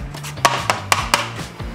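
A knife slices carrots thinly at a 45-degree angle on a cutting board for a Korean military-style chicken kimchi stew: four crisp, evenly spaced chops ring out close up over a low background hum.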